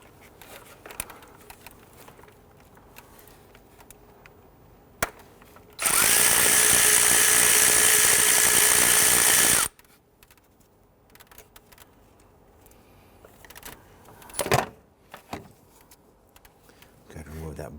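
A 10mm socket on a wobbly swivel extension loosens a bolt on a 2011-2017 Nissan Quest 3.5L V6 while replacing ignition coil boots, heard as one loud, steady whirring burst of about four seconds, with quieter clicks and talk around it.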